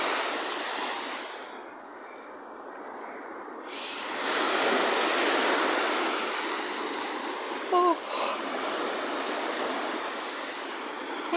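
Mediterranean sea waves rolling onto a sunny shore, a steady broad wash of surf with swelling and easing surges and light wind, heard alone with no talk.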